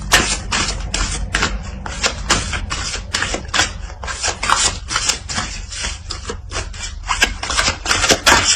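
Cards are shuffled and laid out during a tarot-style card reading, giving a continuous run of rapid papery riffles, slaps and rubbing strokes up close, with no talk.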